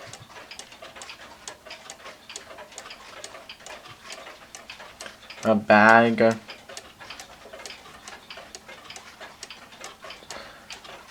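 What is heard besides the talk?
small one-day hunter cuckoo clock ticking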